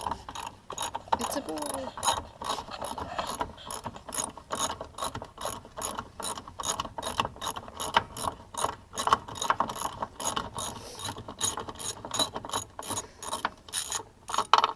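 A ratchet with a 12 mm socket turning a bolt on a 2009 Kia Spectra EX during radiator work, fast steady clicking in rapid bursts, close up, with a brief spoken remark near the start.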